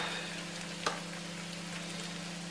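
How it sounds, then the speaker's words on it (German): Chicken pieces sizzle steadily in a hot pan while being seared hard for a peanut chicken dish, a continuous frying hiss with a steady low hum and one brief clatter. "Richtig anständig anbraten."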